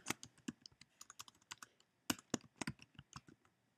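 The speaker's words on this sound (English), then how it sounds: "I'll just type her name here" Computer keyboard typing in short irregular bursts of crisp key clicks, close and clear, with brief pauses between runs of keystrokes and no talking.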